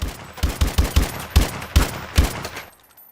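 Rapid bursts of gunfire from the Chicanery and Whale Horn weapons in Call of Duty: Advanced Warfare during recoil testing, about nine loud, evenly spaced shots that stop abruptly and fade into a brief quiet tail.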